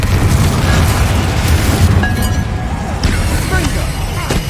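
A Confringo fire spell explodes in the game Hogwarts Legacy, a dense booming blast with a rumbling low roar that stays loud and sustained, followed by trailing crackles and small pops.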